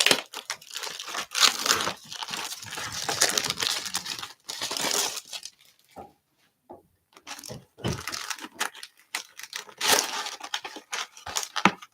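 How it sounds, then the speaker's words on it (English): Foil wrapper torn by hand off a box of 2024 Topps Big League trading cards, with close crinkling, ripping and crackling in irregular bursts and short pauses between them. "let me get this foil off of box number 2."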